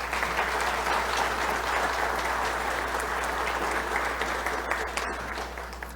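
Steady applause from a conference audience fills the room, even and sustained throughout with a low constant hum beneath, tapering slightly near the end.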